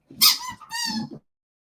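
A dog squeezes a squeaky toy, giving two short, bright, close squeaks in quick succession with no one talking.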